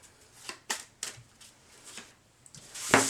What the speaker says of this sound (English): giving it a good shuffle